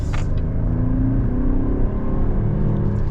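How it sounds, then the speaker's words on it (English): Buick Enclave SUV with a 3.6 liter V6 accelerating, a steady low engine drone rising gently as it pulls away, heard from inside the cabin with no talking. "We'll see how the acceleration is."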